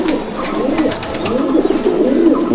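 A pair of Kalanka Andhra pigeons, a male and a female, coo in a loft, giving a steady run of low rolling coos close by, with no talking.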